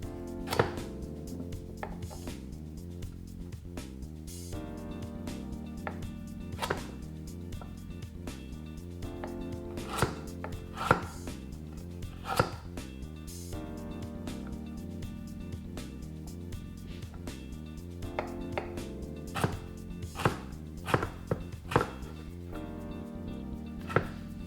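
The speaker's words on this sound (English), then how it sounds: "Peel the carrot and cut it up into matchstick-sized pieces." Knife chopping a peeled carrot into matchstick-sized pieces on a cutting board, a steady series of close, sharp taps with short pauses, accompanied by faint background music.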